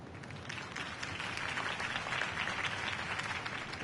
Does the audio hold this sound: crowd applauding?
yes